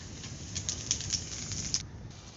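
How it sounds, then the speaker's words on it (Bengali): Whole spices hit hot oil for tempering and give a faint, close sizzle with a handful of quick crackling pops over about two seconds. "এখন আমি ফোড়নটা দিয়ে দিচ্ছি তেলে।"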